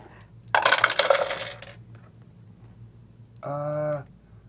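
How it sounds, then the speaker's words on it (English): Dice tumble through a dice tower during a tabletop role-playing character-building session, a bright clattering burst of rattling hits that fades out. A brief tonal sound follows later. "That one's just trying to get over to the dice tower."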